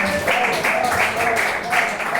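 A congregation in a Pentecostal church claps hands in steady, rhythmic praise, a dense continuous wash of clapping with singing or voices mixed in.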